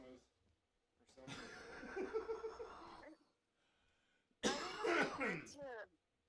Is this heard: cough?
yes